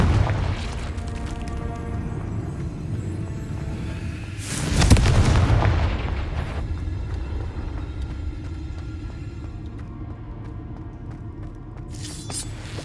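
A Confringo fire spell from Hogwarts Legacy bursts about five seconds in, a loud booming blast with crackling debris. Before and after it runs a steady low rumble of game ambience and music.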